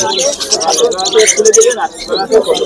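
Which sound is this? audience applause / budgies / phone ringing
budgies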